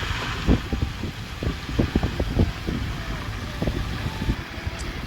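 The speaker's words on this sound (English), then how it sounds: "If you can hear just all the mud we're having to drive through." A vehicle grinds slowly through foot-deep mud left after Hurricane Helene, with repeated squelching splats and sloshes over a low engine rumble and wind buffeting the microphone.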